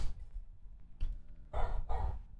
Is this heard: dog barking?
yes